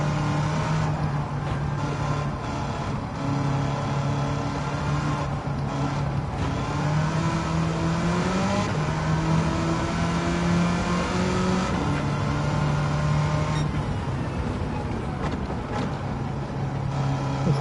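An engine-swapped 1969 Corvette is driven hard around Watkins Glen in Gran Turismo 7, its loud engine droning close and continuous, pitch climbing and dropping through gear changes.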